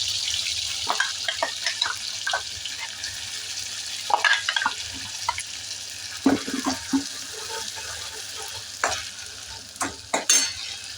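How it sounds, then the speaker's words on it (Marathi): Ground spice paste sizzles steadily in tempering oil in a pan while a spoon scrapes and stirs in irregular bursts, close by. "आता आपण भाजीला फोडणी देऊ"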